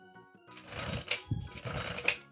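Sewing machine stitching a finishing strip of fabric around a child's car organizer, short bursts of mechanical stitching with pauses, close and moderately loud, with faint background tones.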